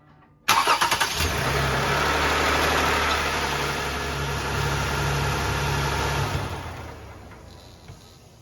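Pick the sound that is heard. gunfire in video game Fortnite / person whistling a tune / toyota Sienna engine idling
toyota Sienna engine idling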